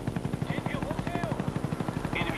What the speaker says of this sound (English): Enemy spy plane incoming.